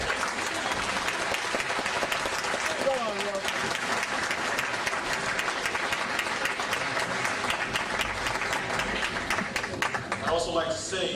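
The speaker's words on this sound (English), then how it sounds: "I'd first like to ask you to give them a round of applause for being here." An audience at a radio-hosted gathering gives a sustained round of applause, dense and steady throughout, with crowd noise and voices mixed in beneath the clapping.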